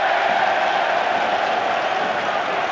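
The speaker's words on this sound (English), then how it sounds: "That's what the cheering in the background's for." A football crowd at a Rangers versus Motherwell match roars and applauds in a continuous, even wash of noise as an injured player gets back to his feet; the sound is distant and broad.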